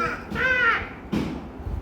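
A voice imitates a crow's caw, with one drawn-out nasal call followed by a shorter, rougher one, close and fairly loud.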